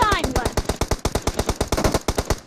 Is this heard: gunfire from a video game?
yes